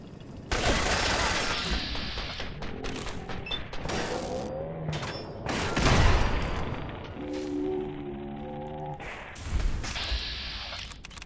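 Gunfire in the Fallout 4 video game: a burst of shots and booming impacts mixed with game music tones and intermittent talk, with louder bangs standing out near the middle and end.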